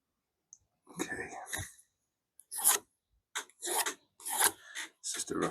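Wood being sanded by hand in bursts of rough, scratchy rubbing strokes, close and fairly quiet, separated by short pauses.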